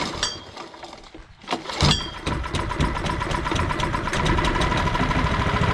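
A John Deere 1100A generator's engine cranks, catches after a few sputters, then settles into a steady droning idle, close by, with a few clinks from handling early on.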